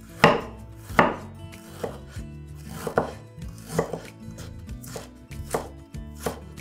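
Onion, garlic and ginger being finely chopped on a board with a knife, a steady series of close, sharp thuds at roughly even intervals.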